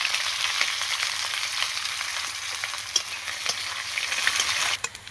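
Onions fry in oil with dried chillies and bay leaf for khichuri, a dense, close sizzle broken by scattered clicks of stirring, continuous and with no talking.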